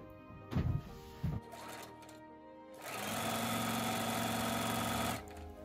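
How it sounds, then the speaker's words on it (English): Sewing machine stitching quilt rows together for a Double Irish Chain block, a steady mechanical whir for a couple of seconds after brief handling clatter near the start. "And now I'm sewing rows 1 and 3 to that center panel for block B."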